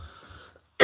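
A single sharp cough bursts out close by at the very end, after a brief stretch of near silence.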